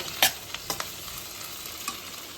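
Green chilli and curry leaves crackle in hot oil in a pan, with a loud scrape of stirring at first and then lighter taps and scrapes over a constant close sizzle.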